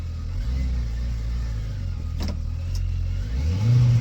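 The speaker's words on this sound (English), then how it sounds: "So revving the engine up, it gets a little louder." A 2025 Kawasaki Ridge Crew Limited utility vehicle engine idles steadily, then revs up near the end, its low growl rising in pitch and loudness.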